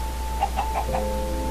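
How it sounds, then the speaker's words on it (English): Several soft clucks from chickens kept in a house in a survival game, a short run of four quick, faint calls over a steady low hum. "Yes, I have a house full of chickens"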